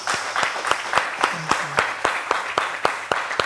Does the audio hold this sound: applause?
yes